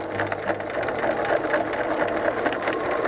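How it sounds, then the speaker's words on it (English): Sewing machine running steadily while stitching a 1/2 inch seam allowance on a tote bag, a continuous close mechanical whir with fast rhythmic needle clatter throughout. "go back to the sewing machine for our 1/2 inch sewing"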